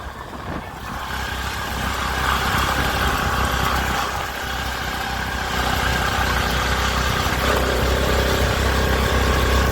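A scooter engine strains steadily uphill on a hillside road near a temple in Nayagarh, droning loud and close throughout with some wind, and no talk.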